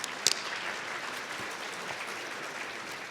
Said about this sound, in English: We have a round of applause for that fantastic lineup.